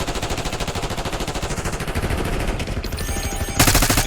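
Video game gunfire from a sniper battle, a dense rapid rattle of shots that runs without a break and grows louder and harsher near the end, with no talking.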